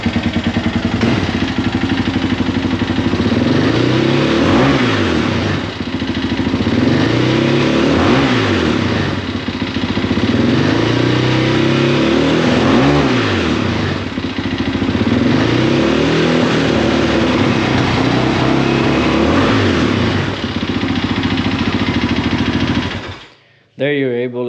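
A 2001 Yamaha Raptor 660R ATV engine with running issues revving loudly up close, rising and falling in repeated throttle swells that sputter and choke out at partial throttle, ending abruptly.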